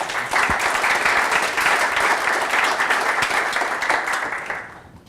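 A crowd at a tech lightning talk bursts into dense, sustained applause that holds steady for several seconds and then tapers off at the end.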